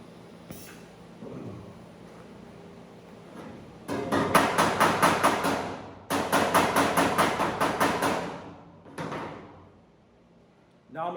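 Bursts of rapid metal hammering on sheet metal at a car firewall during spot-weld repair, two long runs of quick sharp blows with a shorter burst after, loud and close, with a person talking at times.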